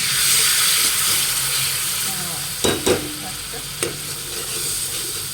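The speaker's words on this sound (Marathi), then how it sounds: "आता हे सगळं मिक्स करून घ्यायचं थोडस पाणी टाकलं" Masala with red chutney and turmeric for Nagpur-style Saoji patwadi rassa stirred in a pan after water is added, a loud close sizzle with spoon scrapes and a couple of sharp clatters.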